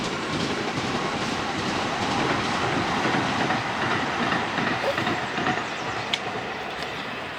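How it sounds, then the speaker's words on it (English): A tram rolls past on a Los Angeles street, a steady broadband rumble with rhythmic wheel clatter on the rails, close and loud throughout with no voices. "a tram is passing by"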